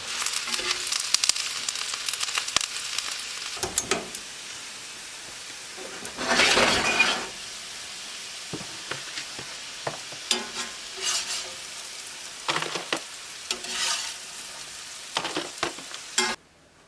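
Potatoes brown in a frying pan at a tent camp, giving a soft, steady sizzle broken by repeated spatula scrapes and clanks, with one longer burst of stirring partway through.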